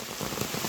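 Rain patters steadily on a surface outdoors, a dense, even hiss of drops, fairly faint and with no voices.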